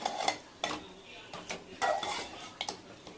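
Mutton varuval stir-fried in a pan, with sharp metal spatula clanks and scrapes against the pan in an irregular rhythm over a faint sizzle, close and fairly quiet, with no speech.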